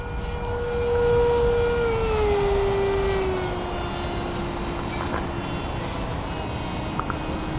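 A Dynam Meteor radio-controlled electric ducted-fan jet flying overhead, a steady high-pitched whine that dips in pitch as the aircraft slows, over constant outdoor wind noise.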